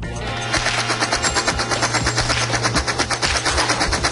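An old-time gun fires in a rapid, evenly spaced burst of loud shots that rattle on continuously after a brief lead-in, like a steady machine-gun chatter.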